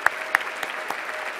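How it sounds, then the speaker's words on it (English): Audience applause at a keynote event, a crowd clapping steadily with a few sharp, close individual claps standing out near the start before the sound settles into an even patter. "please put your hands together for them too"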